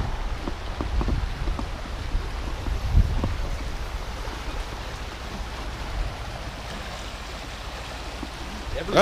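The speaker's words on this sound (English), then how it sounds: "Oh, the river just seems to be running real fast." Fast-running river rushing steadily as broadband water noise, with low rumble and a few louder splashes near the start and end; a voice is briefly heard.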